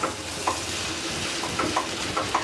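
Sugar stirred into heated milk with a spoon, giving soft rhythmic scraping strokes about every half second against a steady low simmering hiss, close and alone with no talking.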